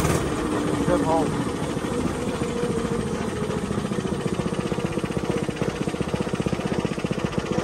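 A small go-kart engine idles close by with a steady, rapid, throbbing putter that carries on throughout, while a person talks over it.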